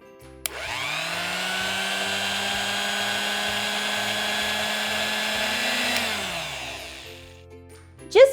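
An electric grinder whirs steadily for about six seconds as it grinds green chilli chutney ingredients with lemon juice, chaat masala and salt, its motor pitch gently rising before winding down, with a clunk at the end.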